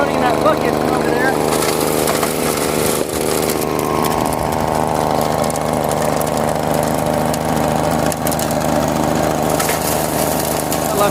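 A small engine powering a gold dry washer drones continuously and close by, with faint rattling of dry material and brief dips in level.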